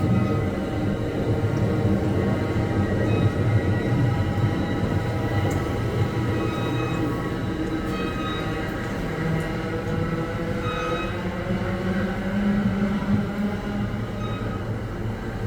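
Steady rumbling of commuter train wheels rolling over rails in winter, a continuous smooth metallic drone with faint squeals, heard from inside a moving car on the Mascouche Line.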